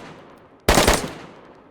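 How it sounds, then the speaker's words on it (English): A DayZ Expansion Mod gun fires one short, loud full-auto burst of a few rapid shots, then fades into an echoing tail. "obviously this gun does your standard full auto"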